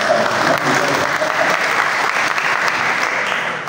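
Steady, dense audience applause fills a work meeting hall, a sustained crowd of clapping hands at even loudness throughout before fading slightly at the end.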